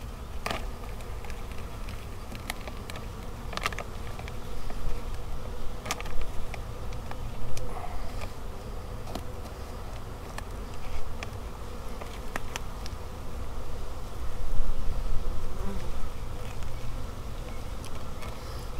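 A dense swarm of honey bees buzzes around a pollen patty at an open hive, a steady close drone that swells and fades as individual bees fly past, with faint plastic rustles and no talking.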